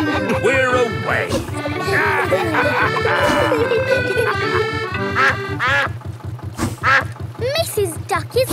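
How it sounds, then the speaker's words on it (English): Cartoon duck quacks from an animated children's show set on a canal boat ride, repeated bright calls heard over a steady rhythmic music track and character voices. "Mrs. Duck is going faster than our boat."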